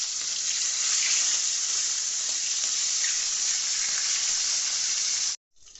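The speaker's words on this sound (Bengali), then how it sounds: "মাছ ভাজা হচ্ছে" Pomfret fish sizzles in a pan of hot oil, an even close hiss with fine crackles that cuts off abruptly near the end, no voices.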